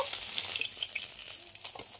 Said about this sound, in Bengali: এবার মাছটা একটু ভালো করে কড়া করে ভেজে নেব